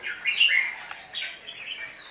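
A captive red-whiskered bulbul, an old wild-caught bird, gives bright, sharp chirping calls close by with no talking, the loudest burst early and softer notes following.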